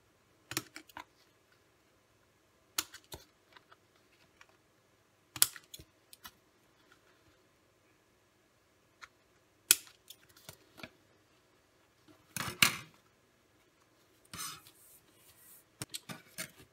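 Scissors bevel-trim paper for a scrapbook cover up to the fold, giving quiet, scattered short snips and paper rustles separated by near silence.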